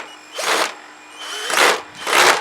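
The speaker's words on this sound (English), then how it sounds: "I think I'm drilling into my screw head there" Three bursts of a power drill whining at high speed as it drives a screw into a pumpkin head, each lasting about half a second, separated by short pauses, close by with no talking.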